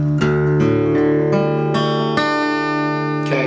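An acoustic guitar in DADGAD tuning rings out in open-tuned strums, several single chords each left to sustain and decay, close and clear.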